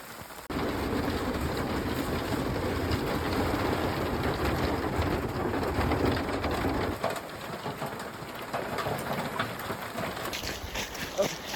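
Steady light drizzle in a misty Rocky Mountains forest above a creek, a soft continuous patter close by with birds calling faintly through it.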